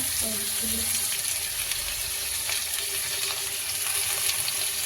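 Potatoes frying in a pan of oil with browned onions give a steady, close sizzle and crackle that runs unbroken throughout, with faint low background noise beneath.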